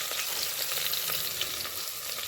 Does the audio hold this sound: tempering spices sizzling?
yes